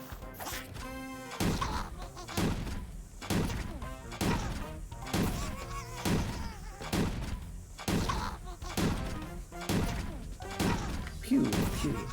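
Cannons firing in the video game Ultimate Chicken Horse, a run of about eight loud booming blasts at roughly regular intervals, each with a short crash and tail, while a person talks between them.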